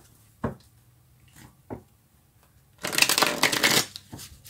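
Tarot cards handled close up, a few soft single flicks and slaps as cards are drawn, then a brisk riffle shuffle lasting about a second, with no talk.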